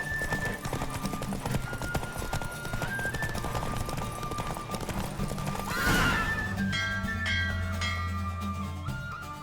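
Rapid hoofbeats of a galloping horse in The Witcher 3 video game, with a loud whinny midway, over background music.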